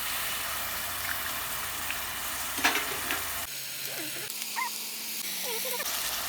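Egg and onion frying on a street-food griddle for Coimbatore-style egg parotta, a steady sizzle with occasional scrapes and clinks, then background sounds faintly toward the end; no speech.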